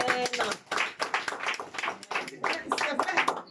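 A church congregation clapping in quick rhythmic handclaps, close and steady throughout, with voices mixed in.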